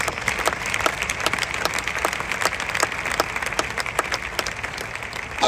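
Stadium crowd at a church gathering claps and cheers loudly for the Lord, steady dense applause sustained throughout with scattered sharp claps standing out.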